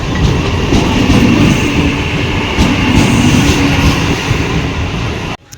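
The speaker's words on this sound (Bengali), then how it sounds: "পাঁচটা 20 ট্রেন, বসিরহাট। পুরো ফাঁকা গাড়ি।" A 5:20 train to Basirhat running at speed, a loud, steady rumble with rhythmic wheel clatter that stays close throughout, then drops away abruptly at the very end.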